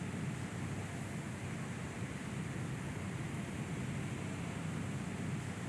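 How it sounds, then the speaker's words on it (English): Mooney aircraft engine in a home cockpit flight simulator, a loud steady droning roar with broadband rush that holds constant throughout, no voices over it. "Voice is quiet, engine is loud."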